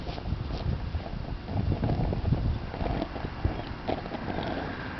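Wind gusting outdoors beside a campfire, a steady low rumble of buffeting across the whole stretch with no talk.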